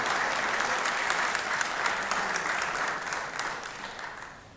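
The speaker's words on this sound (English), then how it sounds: "let's give her a round of applause" Legislators on a state Senate floor give the committee chair a round of applause during the 2024 legislative session: dense, even clapping from many hands that holds steady and then tapers off at the end.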